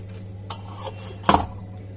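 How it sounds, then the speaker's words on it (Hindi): A homemade pizza base is set down into a kadai on the stove, landing with one sharp metallic clunk after a softer knock, over a steady low hum. "अब हम अपने बेस को इसमें रखेंगे कढ़ाई में।"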